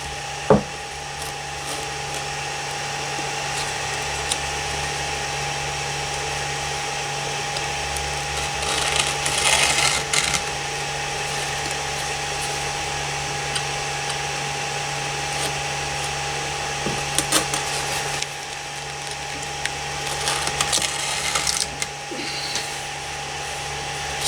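An Atomstack laser engraver with an air assist unit runs continuously nearby. A steady fan hiss and hum fills the clip, with faint stepping motor whirs and brief louder bursts as the head moves during engraving.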